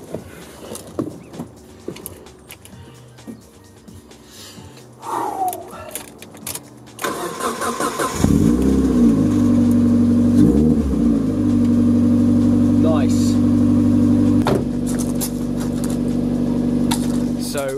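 A car engine cranks and catches after its battery is reconnected, then settles into a loud steady idle with a few blips of revving, following quieter clicks and handling noises.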